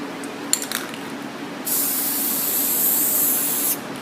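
A couple of light clicks, then a loud continuous aerosol spray paint hiss for about two seconds before stopping abruptly, as an airsoft gun is painted in woodland camo.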